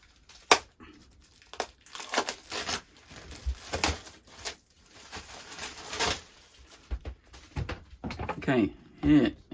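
Cellophane wrapping crinkles and tears in irregular bursts while a heavy Descent: Legends of the Dark board game box is unpacked, close and fairly loud, with light handling rustle between bursts and a brief voice near the end.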